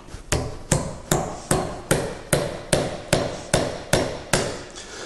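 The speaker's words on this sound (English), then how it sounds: "Now I'm going to drive that in using a hammer as far as I possibly can." A hammer drives a split wooden wedge into the eye of a hammer handle during rehandling, about eleven sharp, evenly spaced blows ringing out close and alone.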